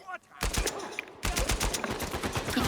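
Rapid automatic gunfire from the video game Uncharted breaks out in loud bursts after a brief quiet start, pausing briefly and then resuming as sustained volleys.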